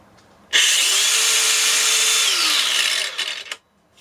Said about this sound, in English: it's got a brake for the disc so it doesn't continue to spin until it slows down